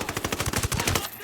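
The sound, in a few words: gunfire in Ghost Recon Wildlands video game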